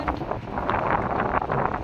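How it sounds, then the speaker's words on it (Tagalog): Strong wind buffets the microphone in a continuous roaring rush with gusty surges, no voices present. "Sobrang hangin. Windy day."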